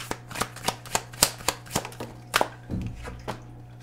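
Tarot cards shuffled by hand: a quick run of about a dozen crisp slaps and flutters, close and fairly quiet, with no talking.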